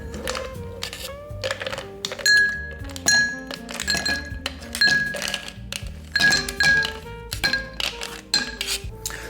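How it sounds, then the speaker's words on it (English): Ice cubes drop into a cocktail mixing glass while a pre-Prohibition Martinez is prepared, a run of loud, close clinks and thunks, then rattling glassy chimes as the cubes settle. "So the next thing I'm going to do is add some ice."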